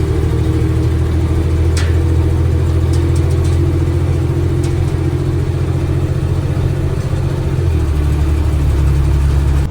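A loaded semi truck hauling grain pulls away with a loud, close, steady diesel engine drone that shifts pitch near the end as it accelerates.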